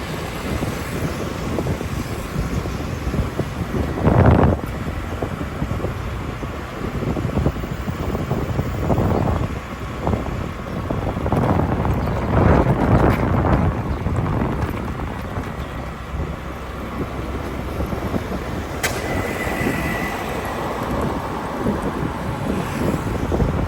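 Wind roaring across the microphone beside a road under construction near a traffic light, a loud, continuous buffeting rumble with gusts that swell and fade.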